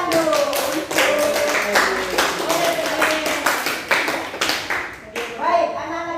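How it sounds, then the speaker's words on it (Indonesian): Children in an Indonesian classroom clap their hands together, a loud, uneven burst of claps with distinct individual strikes, while young voices chatter and call out over the clapping. "Tepuk tangan dulu."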